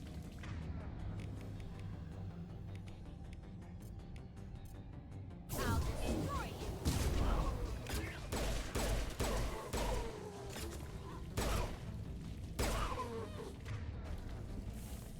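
Pistol fire in the game Mass Effect 2 (Legendary Edition), quiet background at first, then a dense run of sharp repeated shots with booming impacts and combat noise for the remaining seconds, loud and close.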